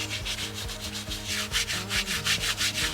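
Rhythmic scrubbing of a horse's hairy, winter-stained legs with purple shampoo, a steady brisk rubbing with repeated strokes, close and fairly loud, with no talking.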